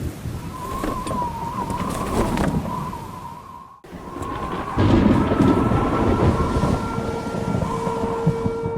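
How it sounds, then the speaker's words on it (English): Hail clatters steadily and densely outdoors during a thunderstorm. It grows louder and heavier partway through, with a constant rushing, pelting texture and a faint tonal background sound. "Pretty good hail. Wow, there's a lot."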